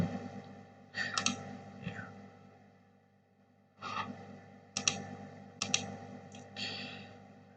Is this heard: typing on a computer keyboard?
yes